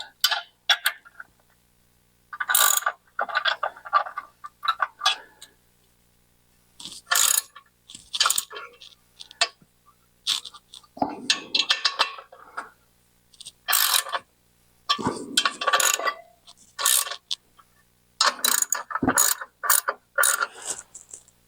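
A ratchet runs down the clutch bolts on a 1967 Chevrolet Corvette in repeated bursts of rapid clicking, each followed by a pause, close and fairly loud with no talking.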